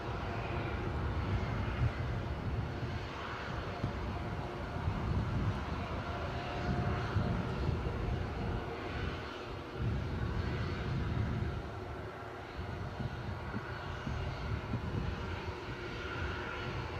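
A jet airliner's engines roar steadily and at a distance at Newcastle airport, a continuous even rumble with no talk over it.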